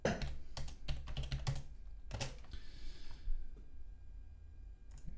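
Rapid bursts of keystrokes on a computer keyboard while entering a definition-style flashcard, close and clear with short pauses between clusters of clicks, no voices.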